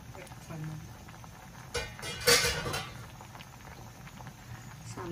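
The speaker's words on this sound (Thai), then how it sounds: "ก็จะปิดฝาหม้อไว้จ้ะ" A lid goes onto a cooking pot of sour curry with fish roe, giving a brief metallic clatter in the middle of an otherwise quiet kitchen, with a few softer clinks around it.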